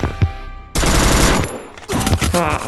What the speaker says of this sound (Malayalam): വേറെ ആരോ ബാക്കിൽ നിന്ന് വെടി വെച്ചായിരുന്നു